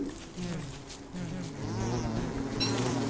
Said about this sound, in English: These bees all look knackered.